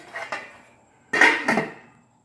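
A metal lid goes onto a pot of Italian red sauce with a few close clanks and rattles, two light taps first and then a louder clatter as it settles into place.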